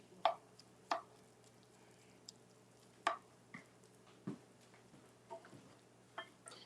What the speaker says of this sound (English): Just stirring this around to make sure I don't have any pink pieces left. Make sure all that ground beef is cooked.